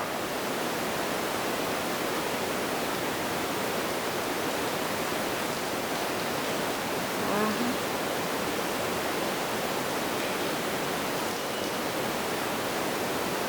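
Warm water pours in a steady, continuous rush for the whole stretch, loud and close, with no voices.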